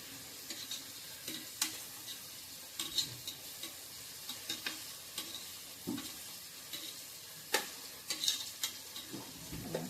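Green chillies and onions sautéing for vegetable biryani: a soft continuous frying sizzle with regular sharp clicks and scrapes from a spatula against the pan, close but quiet, with no talking.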